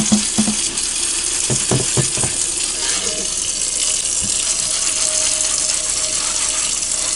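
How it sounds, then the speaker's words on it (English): A new cast iron skillet being scrubbed and rinsed in a kitchen sink, with steady running tap water throughout and a few sharp clinks and knocks of the heavy pan early on, close and continuous. "this is the only time you'll ever wash your cast iron skillet"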